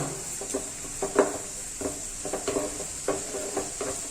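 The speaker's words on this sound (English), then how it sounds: "we are going to saute the onion well" Chopped onion sautéing in salted butter in a pan for akuri, with soft sizzling under a run of intermittent stirring scrapes and light taps, close and fairly quiet.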